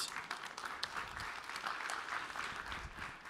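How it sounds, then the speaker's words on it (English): An audience at a startup pitch competition breaks into steady, dense applause, a sustained wash of clapping from a crowd that fills the room, with no talking over it. "Round of applause."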